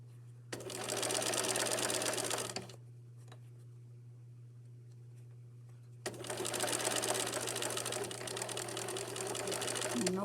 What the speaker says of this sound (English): I'm going to stitch it up just to where it met in with the denim